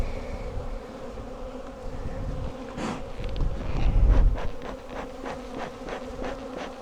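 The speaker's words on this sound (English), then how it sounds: "Come on, bees out the way." Honey bees swarm around massive open hives full of honey, a dense close buzzing with individual bees zipping past the microphone, and a soft gust of wind in the middle.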